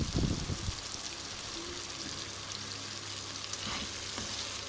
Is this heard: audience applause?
no